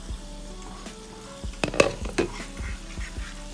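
Potatoes frying in a pan are stirred, giving a steady sizzle broken by a few louder scraping, clacking strokes of the utensil partway through, with no talking.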